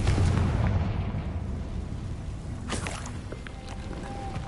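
Explosive Bombarda and Confringo spells go off in the Hogwarts Legacy video game as a deep, rumbling boom that fades out, followed by a softer burst partway through.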